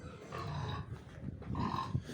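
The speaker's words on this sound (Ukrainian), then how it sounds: "тепер покажу свинку, яку будемо різати в цей четвер" Pig grunting in a farm pen, a sow of roughly 130–140 kg, with low rough grunts and snuffling heard close up and fairly steady throughout.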